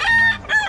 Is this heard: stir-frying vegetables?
no